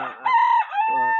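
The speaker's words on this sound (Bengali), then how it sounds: "মোরগের ডাক বাট এটা কি মোরগ আপনারা জানেন না" An Egyptian Fayoumi rooster on a small poultry farm crows once, close and loud, in a short strained call with a rising middle and a drawn-out end.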